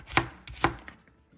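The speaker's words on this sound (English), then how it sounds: "I'm going to cut bitter gourd into small pieces so that cooking made easy." Knife chopping bitter gourd into small pieces on a cutting board, giving two sharp, close thuds about half a second apart followed by a faint third tap.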